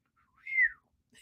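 A person whistles an imitation of the R2-D2 droid from Star Wars: one short, close warbling chirp that rises and then falls in pitch, heard on its own.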